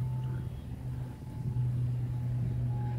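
A 2019 Lincoln Continental Reserve with dual exhaust idles close by, giving a steady, low, even rumble with a faint higher hum above it and no revving.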